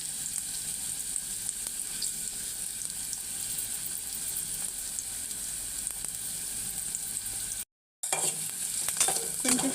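Onions and chillies fry in a pan for a Godavari-style gongura prawn curry, giving a steady, close hiss of sizzling oil with faint stirring scrapes and a brief silent break near the end.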